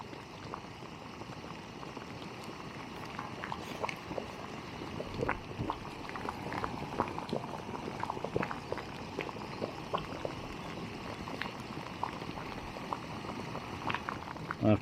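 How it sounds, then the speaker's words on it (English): Water boils steadily in a pot on a camp stove for a Wayfarer steak meal outdoors in the woods, a continuous soft bubbling and popping at close range with no talk. "Boiling well now."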